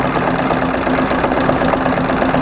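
A sewing machine quilting a snowflake quilt runs at a fast, even stitching rhythm, close and continuous, with a steady mechanical hum.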